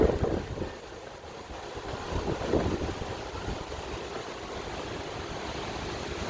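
Tropical storm Nicole wind gusting around Disney's Caribbean Beach, a low, buffeting roar with louder surges near the start and middle before settling into a steady, moderately faint rush.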